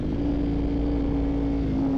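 A 38-year-old Honda VFR 750 motorcycle engine holds a loud, steady idle-to-rev drone, close and continuous with a strong low hum, no voices over it.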